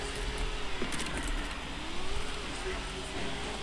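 Steady car engine hum from a Carbonara vehicle driving in Roblox Jailbreak, a continuous low drone with small rises in revving, with faint clicks and jangles over it.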